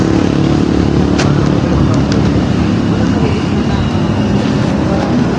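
A loud, steady motorcycle engine rumbles close by, continuous throughout with a thick low drone.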